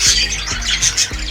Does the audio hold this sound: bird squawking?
yes